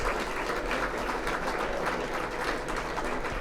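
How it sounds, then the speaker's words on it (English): An awards-ceremony audience claps steadily, a dense continuous patter of many hands at even loudness throughout. "So give yourself a clap because you're looking good tonight"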